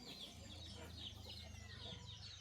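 Chickens cluck inside a newly fenced coop, soft repeated clucks over a low steady background hum.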